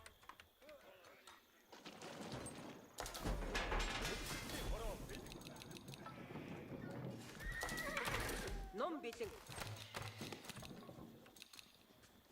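In Age of Empires IV, spawning horse riders bring several loud whinnies and neighs with clattering hoofbeats, set among busy battle and game effects.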